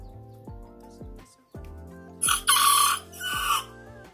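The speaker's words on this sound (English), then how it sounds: "They are literally crowing in here." Bantam roosters crow loudly indoors, several overlapping cock-a-doodle-doo calls in quick succession over a soft background hum.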